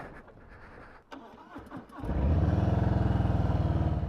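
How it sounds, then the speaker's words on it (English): Harley-Davidson Street Bob motorcycle engine starting: a brief starter crank and clicks, then the V-twin catches and settles into a loud, steady, throbbing idle up close. "Let's fire up the bike and"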